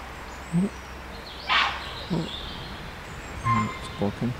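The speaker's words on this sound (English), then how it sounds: "And the faraway one squawking back." Herons squawk in woodland at night, a few short harsh calls spaced apart against a quiet background, some nearer and one answering from farther off.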